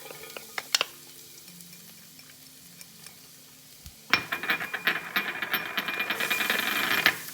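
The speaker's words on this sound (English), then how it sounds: "maybe a couple of teaspoons of oil in the bottom. And then I want to add first the garlic" Garlic hits a couple of teaspoons of hot oil in a pot and sizzles loudly. A few quiet clinks of utensils come first, then a sudden bright crackle that swells and keeps going as it is stirred.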